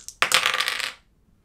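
Dice rattle and tumble across a hard surface in a quick clattering burst lasting under a second, loud and close, then stop abruptly with no talking.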